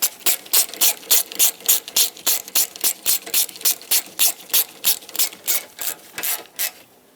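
A ratchet wrench tightens an AC line fitting on a 2014-2021 Mazda 6, clicking loudly and close in a steady run of about twenty even strokes before stopping.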